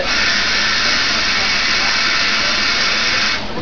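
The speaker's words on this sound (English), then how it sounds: "Just a little bit more water in there." A little more water runs from the tap into a soup pot, a steady loud hissing stream that cuts off right at the end.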